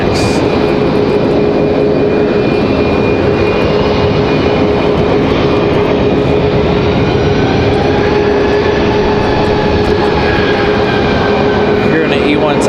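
An Embraer E175 jet climbs after takeoff with a loud, steady engine roar and a sustained whine running through it, continuous and close for the whole stretch.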